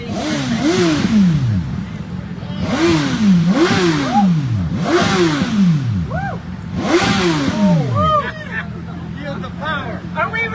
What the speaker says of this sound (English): Are we revving up our engines?